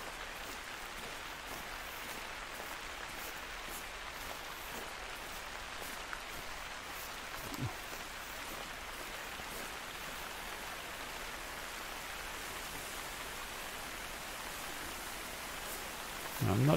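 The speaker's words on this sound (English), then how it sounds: "Might have been raining, it might not have been." Steady rainfall in the Call of the Wild hunting video game, a soft, even hiss of falling rain that stays faint and constant throughout with no voices over it.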